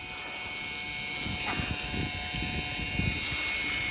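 A Milwaukee Hydro Pass battery-powered water transfer pump on an M12 battery hums and whirs steadily, with faint splashing and rustling underneath, fairly quiet and continuous.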